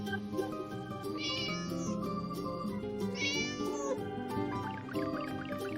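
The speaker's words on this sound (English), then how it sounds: "Cat." Two clear cat meows rise above lively background music, each drawn out and sing-song, with a pause between them.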